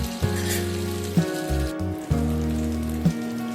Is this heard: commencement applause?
no